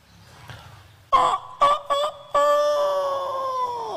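A voice imitates a rooster crowing, a loud, strained cock-a-doodle-doo built from several short tonal bursts and then a long drawn-out final note, heard alone.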